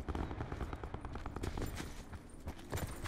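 Rapid bursts of gunfire in the video game Call of Duty: Black Ops 4 Blackout crackle continuously, dense and somewhat distant, with rattling automatic fire throughout.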